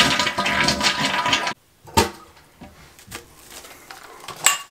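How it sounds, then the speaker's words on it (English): A toilet flushes hard and drains until the tank is empty, a loud rushing burst that cuts off abruptly, followed by quieter trickles and gurgles from the bowl and tank. "flush until empty."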